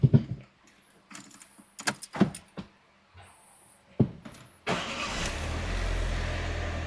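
A Fiat 500X with a newly replaced starter motor, parked on a workshop lift: a few clicks and keys rattling, then the starter cranks and the engine catches and settles into a steady close idle.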